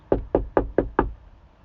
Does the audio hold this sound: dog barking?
no